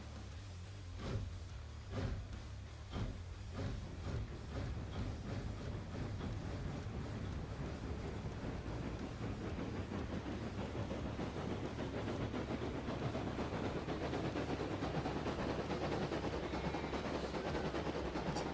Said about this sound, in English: Loud train.